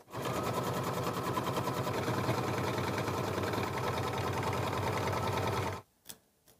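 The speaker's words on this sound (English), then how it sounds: "Our next stitch out is to show the placement line of where to place my lemonade fabric." An embroidery machine stitches a placement line in yellow thread for a lemonade fabric quilt block, a loud, fast, steady mechanical rattle running close for about six seconds before stopping, followed by a couple of faint clicks.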